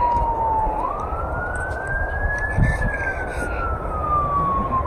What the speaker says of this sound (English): And the ambulance going past too.